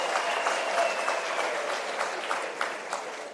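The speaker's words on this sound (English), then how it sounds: "A round of applause." Sustained applause from a crowd at a ceremony handing over 100 bicycles to a school in Katlehong during a transport month launch, dense steady clapping heard at moderate distance throughout.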